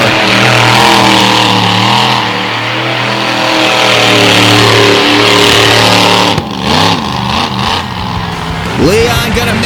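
A monster truck engine roars and revs loudly through a freestyle run at a Renegade Monster Truck Tour event, sustained throaty drone with rising and falling pitch, crowd noise and an announcer's voice mixed underneath.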